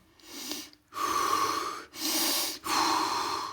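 Calm, audible breaths during a posture exercise, with three or four long inhale and exhale phases following one another steadily, close up and without any talking.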